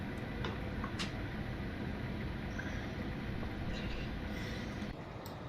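A Class 450 Desiro electric multiple unit runs between Bournemouth and Southampton in Train Simulator, a steady loud rolling rumble with faint wheel and rail clicks throughout, no talk.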